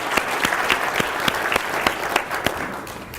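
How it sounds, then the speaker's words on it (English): Audience at a business talk breaks into applause, a short burst of dense clapping with sharp regular beats, fairly close and fading slightly at the end. "let's give them a round of applause, because that was fantastic."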